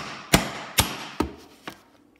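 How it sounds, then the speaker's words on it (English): Four sharp, evenly spaced hammer blows strike a wrapped iron sample during a chemistry demonstration, each a close, dull knock that gets slightly quieter, with no talking. "So we're going to hit it with a hammer, and this is our iron element."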